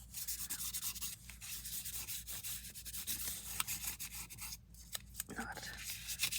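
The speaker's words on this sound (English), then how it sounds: "I just want to kind of take down a little bit of the super shiny foiliness of this" Fine sandpaper scuffing the shiny surface of foil-coated craft paper, continuous close, gritty rubbing strokes in a quick back-and-forth rhythm, with faint speech briefly under it.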